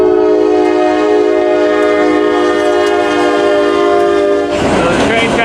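A train horn blares loud and close beside the tracks, a sustained steady chord holding for over four seconds before cutting off into the rumble and clatter of the passing train.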